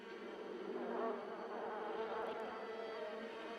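Flies buzz steadily and fairly loud throughout a scene from a horror movie being watched, a dense continuous insect drone with no talk over it.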